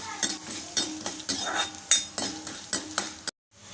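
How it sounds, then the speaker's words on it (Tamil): Urad dal and dried red chillies roast in a pan, stirred with a spatula that scrapes and clinks against the metal in a regular rhythm of strokes, close up, before the sound cuts off abruptly. "ரெண்டே ரெண்டு வரமிளகா எடுத்து வச்சுருக்கோம் சேர்த்துட்டு வறுத்துப்போம்"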